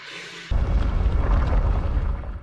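A missile explosion in The Mandalorian erupts suddenly into a loud, deep, rumbling boom that rolls on for about two seconds, heavy and close, with no talking over it.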